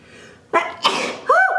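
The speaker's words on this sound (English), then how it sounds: "I have to sneeze from that powder." A single loud, close sneeze from a woman applying makeup powder with a brush: a sharp inhaled buildup bursting into a forceful nasal explosion, followed by a brief voiced squeal, with no talk.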